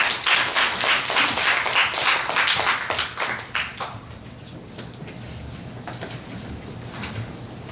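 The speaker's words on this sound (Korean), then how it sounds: "큰 박수 부탁드립니다" A crowd claps in a dense burst of applause that fades after a few seconds, leaving scattered claps over low room noise.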